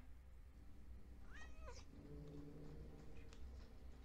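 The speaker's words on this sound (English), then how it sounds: "Oh, the kitty." A cat meows in the science-fiction film Alien, a single drawn-out meow from a movie soundtrack heard faintly, followed by a short low trailing call over background hum.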